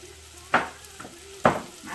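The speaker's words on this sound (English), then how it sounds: "I'm just going to saute my mushrooms a little bit." Mushrooms sautéing in a pan for a blackened salmon and Alfredo meal, two sharp sizzling bursts about a second apart as they are stirred, with a low steady hiss in between, close and clear with no talking.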